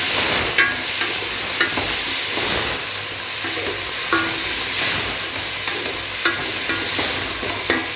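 Chopped tomatoes going into hot spices in a pan, a loud, steady sizzle and hiss with repeated scraping and stirring clinks throughout.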